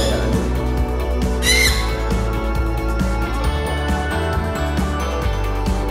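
A lovebird of the non-clap type lets out harsh squawks, with one sharp burst standing out over a steady tonal backing that continues throughout.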